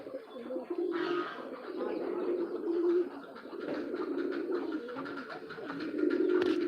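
Several pigeons at a farm coo continuously nearby, low overlapping rolling calls with faint background noise.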